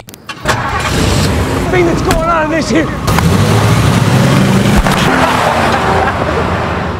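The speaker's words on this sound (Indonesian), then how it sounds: "Richie dan Kelly langsung tancap gas menuju pusat kota" A police patrol car's engine starts and revs as it accelerates away, a loud, steady drone filling the clip, with voices and shouts mixed in over the engine noise.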